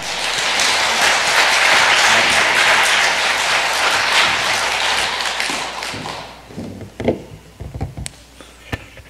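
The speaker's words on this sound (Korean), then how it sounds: "박수로 우리 목사님 맞이하도록 하겠습니다" A large church congregation applauds steadily for several seconds, then the clapping thins out and fades into scattered claps and room noise.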